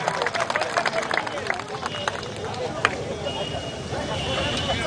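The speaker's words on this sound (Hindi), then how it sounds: "एक बार जोरदार तालियों के साथ इनके सामने इनका स्वागत करें" An outdoor crowd at a Holi fools' gathering on Maharaj Bada in Gwalior claps steadily in a dense, continuous wash of applause, with crowd murmur underneath.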